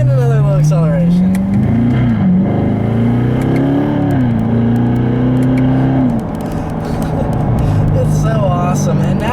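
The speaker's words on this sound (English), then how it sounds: "And another little acceleration." A 2015 Chevrolet Corvette with an 8-speed automatic accelerates from inside the cabin, its loud engine note climbing and dropping through gear changes before settling to a steady drone, with someone talking over it.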